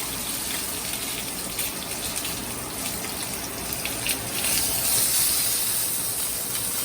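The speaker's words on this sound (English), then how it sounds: "Sear it on its base." Lamb chops sizzling on their base in a hot pan, a steady loud hiss and crackle that swells brighter and more intense near the end, with no talking.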